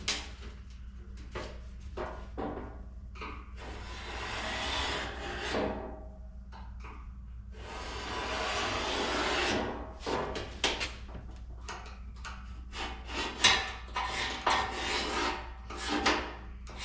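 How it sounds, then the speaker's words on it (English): A metal pick scratches along a straight edge on a 1978 K5 Blazer's steel floor pan, making short, dry rasping strokes in irregular bursts, some longer, heard close and fairly quiet with no talk. "I'm just gonna kind of use it as a scratch awl on the straight edge."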